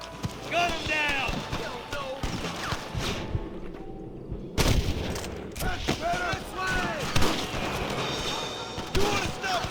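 Gunfire in Red Dead Redemption during a fight with cattle rustlers: sharp, scattered shots and thuds mixed with hooves, horse noises and shouted voices, with a brief lull before a loud crack restarts the chaos.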